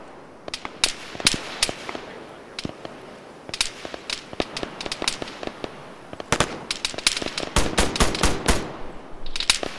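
Gunfire in the Arma 3 military video game during a forest fight: sharp cracking shots in bursts and single reports, some near and loud and others farther off, growing denser toward the end, with no talking.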